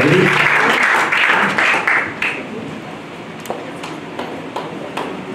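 A church congregation gives a loud burst of clapping in praise that fades over several seconds into scattered, separate claps.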